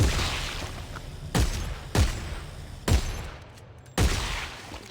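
Four loud, sharp gunshots ring out about a second apart in a co-op video game as a dead soldier's limbs are shot off, each blast booming and decaying over a low rumbling backdrop.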